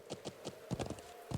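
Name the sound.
horse hooves clip-clopping in a video game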